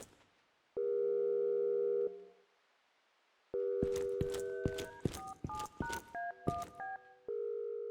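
Phone box in a Wwise and Unreal game audio demo gives steady electronic telephone tones: a long busy-style beep, a pause, then a quick run of dialing keypad tones and another sustained tone, clean and synthetic.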